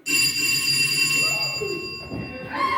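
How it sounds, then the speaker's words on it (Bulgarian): A doorbell rings loudly and close, a sustained bright electric buzzing ring lasting a couple of seconds, with a voice briefly calling out over it near the end. "Звънецът!"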